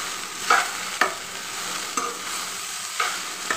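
Flattened rice (aval) stirred in a pan for aval uppuma, a soft steady sizzle broken by four spaced scraping strokes of a spoon against the pan, no voices.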